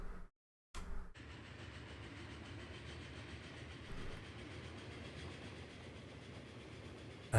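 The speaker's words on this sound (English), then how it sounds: "we gotta wait for the stone train to come through" A stone freight train in the Transport Fever 2 simulation game rolls past. After a brief cut to silence, a steady, quiet rumble with faint rhythmic clatter carries on.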